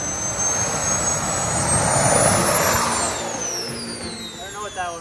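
A homemade five-engine jet suit's small turbines roar up with a rising whine that climbs to a shrill peak, then spin down as the engines cut out on their own, loud and close.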